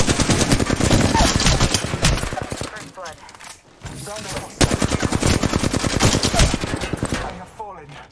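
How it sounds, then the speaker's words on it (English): Rapid automatic gunfire from Apex Legends on the Bangalore side, loud bursts filling most of the stretch with a short lull in the middle, repeated fire under in-game voice callouts. "The enemies are shooting at me."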